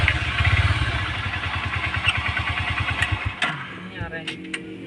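A Honda Supremo 150cc motorcycle engine chugs in a rapid, labored pulse close by while straining uphill, then cuts out, leaving faint clatter and background noise.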